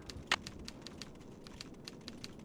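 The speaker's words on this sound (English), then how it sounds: "she got back to typing quick" Quiet, rapid keystrokes on a keyboard in the game Nancy Drew: Treasure in the Royal Tower tap at an uneven rhythm, opening with one sharper clack over a faint low room hum.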